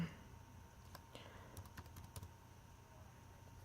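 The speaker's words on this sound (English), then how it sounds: "I'm having to type with one hand" Keys on a computer keyboard are tapped one-handed in quiet, uneven bursts, faint and close.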